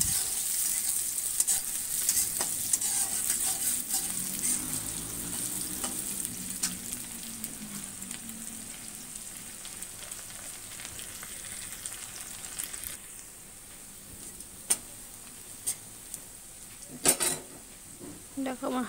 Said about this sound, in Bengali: পেঁয়াজ কুচিগুলোও দিয়ে দিচ্ছি। ভালো করে নাড়াচাড়া করে একটু গোল্ডেন ব্রাউন হয়ে গেলে